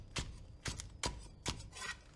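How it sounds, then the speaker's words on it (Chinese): A knife chops green onion tails into short pieces on a board, giving four crisp, evenly spaced strikes, close and fairly quiet, with no talk. "准备大葱几根，将葱尾切下切成小段备用。"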